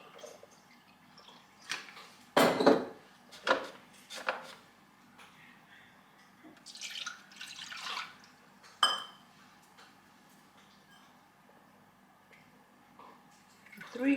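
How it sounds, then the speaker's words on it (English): A cup of milk is poured for ice cream ingredients, with a few clinks of dishes and glass and brief liquid splashes spread across a quiet stretch. "So let's start with a cup of milk"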